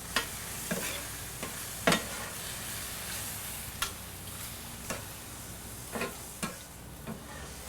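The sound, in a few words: mixing pineapple with salt, allspice and ancho chili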